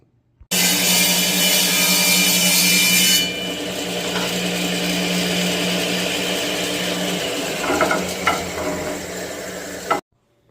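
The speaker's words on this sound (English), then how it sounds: "run it through again to split it in half this way" A table saw rips wood pieces for a bathroom vanity, a loud steady whine and cutting roar running nearly ten seconds before stopping abruptly, no talking.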